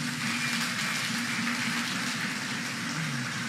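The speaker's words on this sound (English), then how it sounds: "one more time, a round of applause for them" Steady dense applause from a high school debate audience cheering the debaters after a quarterfinal round, a continuous crackling wash of many hands clapping, fairly distant and even, with no speech over it.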